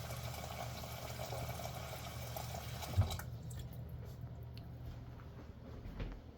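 Water is poured over dried beans soaking for hummus, a steady quiet pouring and filling that stops abruptly around midway, leaving faint drips and room noise.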